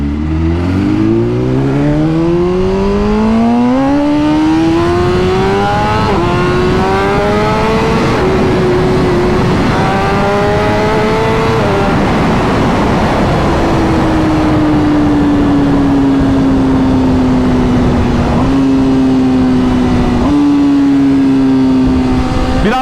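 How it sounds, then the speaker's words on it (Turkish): Loud, close engine exhaust roar from a car or superbike, likely an Audi RSQ8 or BMW S1000RR, rising and falling through gear changes with sustained high-revving tones, filling the whole stretch with no talking. "İçimi titreten bir egzoz sesi."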